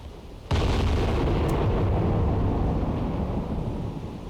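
Naval gunfire aimed at ships in the submarine game Cold Waters, a single heavy boom that hits suddenly and then rolls on as a long, loud rumbling decay, with no talking.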